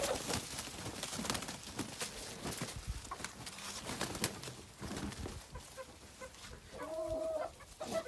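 Ornamental chickens, including black and white roosters and a black hen, cluck and call continuously in a pen, several birds overlapping near and far with steady background rustle, a brief higher squawk late on.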